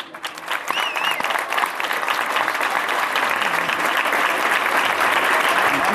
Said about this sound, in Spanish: Un aplauso a su memoria